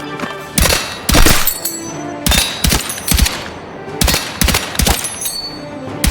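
A DRS-IAR rifle fires in bursts in a video game: rapid, loud, close shots in repeated clusters with short pauses between, no talking.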